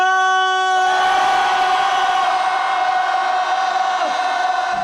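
A large crowd at a candlelight protest lets out a loud, sustained collective shout with a strong ringing tone, holding steady and sliding slightly near the end.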